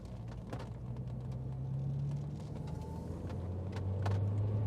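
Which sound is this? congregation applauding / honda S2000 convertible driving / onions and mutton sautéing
honda S2000 convertible driving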